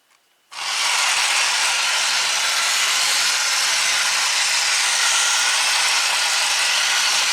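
A TMNT Power City motorized toy subway train starts up in slow mode with a sudden click, then runs with a steady, close, hissing whir for several seconds, with no talking.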